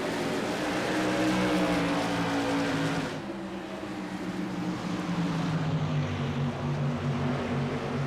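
Modified Series race cars at Five Flags Speedway roaring back up to speed on a restart, loud engines droning and rising in pitch, a pack passing close before the sound drops and then builds again.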